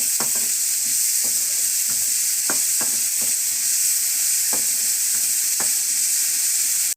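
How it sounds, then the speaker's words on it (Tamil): Onion, tomato and chilli fry together in a pan with a loud, steady sizzle, broken by a few sharp clicks of stirring. Nobody speaks. "தக்காளி, மிளகா எல்லாத்தையும் சேர்த்துருங்க. சேர்த்துட்டு சும்மா ஒரு நிமிஷம் வேக விட்டால் போதுங்க."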